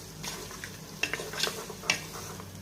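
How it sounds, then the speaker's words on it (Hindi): Mutton with garlic, ginger and green chili paste is stirred as it fries in a pot, with faint sizzling and several clinking spoon scrapes against the metal, quiet and close, with no speech. "मिक्स करते हैं।"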